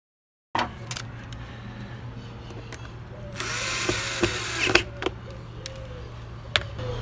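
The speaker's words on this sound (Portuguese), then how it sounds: "Agora tem que colocar os parafusos." A power screwdriver drives screws into a vacuum cleaner's plastic housing, with a whirring buzz of a few seconds in the middle, small clicks and knocks around it, and a steady low hum underneath.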